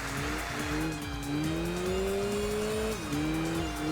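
Car braking hard in the Enthusia racing video game, a continuous engine drone shifting in pitch with a sustained tire squeal layered on top, fairly quiet and without talking.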